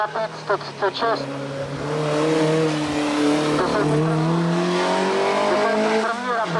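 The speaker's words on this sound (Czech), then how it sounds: "Škoda Rapid 136." A Škoda Rapid 136 race car on the Ecce Homo hill climb at Šternberk, its engine note rising steadily and staying loud beneath a commentator's voice.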